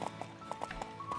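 Hoofbeats of a horse crossing a wooden bridge in the video game Horse Life, a quick run of light, evenly spaced clip-clop strikes with a faint musical backing.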